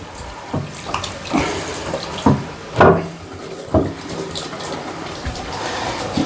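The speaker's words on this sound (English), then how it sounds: "Let that run, get some hot water flowing" Hot water runs steadily from a newly plumbed tap in a freshly refurbished en suite bathroom, a constant close splashing rush with several louder spurts and gurgles as air clears from the pipes.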